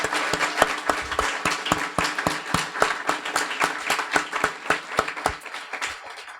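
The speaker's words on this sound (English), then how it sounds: "A warm round of applause to Cleveland East." A crowd at a guide dog school graduation applauds steadily, many hands clapping together in a dense, even patter that continues throughout, with some sharper individual claps standing out.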